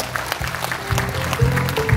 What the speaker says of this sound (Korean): 강대일 박사님께 다시 한번 큰 박수 부탁드립니다